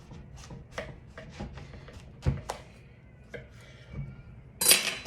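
A knife cuts through a soft loaf of chocolate zucchini bread with a series of quiet, close taps and thuds against a board, followed by a brighter clink near the end.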